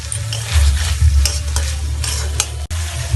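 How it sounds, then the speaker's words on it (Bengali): Two chopped medium tomatoes with salt and spices being stirred in a hot pan for a vegetarian soyabean-potato curry: loud, close scraping strokes over a thick, continuous sizzle, with no voices. "দিয়ে দিন 2টি মিডিয়াম সাইজের টমেটো কুচি।"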